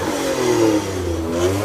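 A Lancia Stratos clone built by Hawk revs its engine at a car show, a loud, close mid-pitched growl that rises and falls over under two seconds with no talk.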